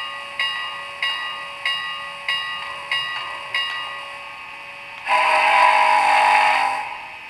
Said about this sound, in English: That's the whistle. Holy crap, that is loud.